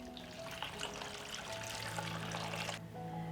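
Water pouring steadily into a pot, a continuous close splashing stream that runs for nearly three seconds before cutting off, followed by a quieter tail.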